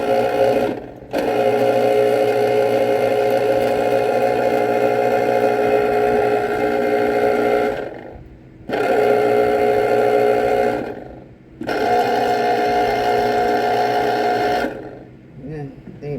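Electric kitchen appliance processing lemons: a loud, steady motor whine running close in three long stretches, separated by brief pauses where it stops, with a final short burst.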